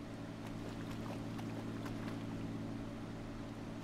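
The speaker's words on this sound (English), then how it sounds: "There's definitely a seaplane engine." A steady, low droning seaplane engine in GTA 5 hums continuously at a moderate distance, with a faint airy wash over it.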